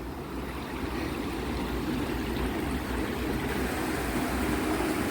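Water from a stream flows steadily beneath an old mill house, a continuous rushing wash that swells slightly louder toward the end, with no voices.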